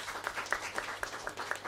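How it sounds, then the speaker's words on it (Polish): Audience applause at a folk music awards gala concert, a moderate burst of clapping with rhythmic peaks, heard from within the hall. "także brawa dla niej."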